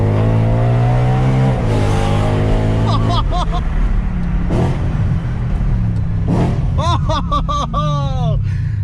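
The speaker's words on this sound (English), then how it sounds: "The gearing's really good on the DCT cars." A modified E92 BMW M3 with a DCT gearbox revs hard and accelerates, pitch climbing and dropping through rapid gear shifts, loud and close, with excited voices over it.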